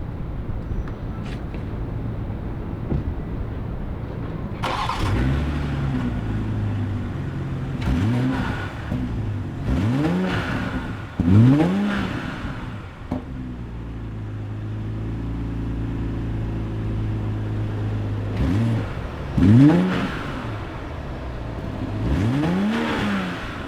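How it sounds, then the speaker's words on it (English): A 2022 BMW X6 xDrive40i engine revs up several times in short bursts, each rising and falling back to a steady idle, close and loud. "I'll give it some revs."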